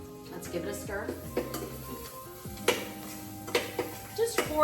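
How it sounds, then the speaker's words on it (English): Shallot sizzles softly in a warm Instant Pot while a utensil stirs and scrapes against the pot, with clinks and knocks standing out over a faint frying hiss and some background hum. "We've got our shallot going in. You can hear the sizzle."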